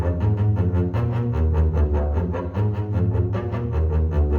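A bass guitar plays a steady repeating rhythm of doubled notes, loud and close, with a continuous driving pulse.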